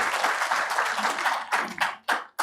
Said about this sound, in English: So please give a big round of applause to the mobility team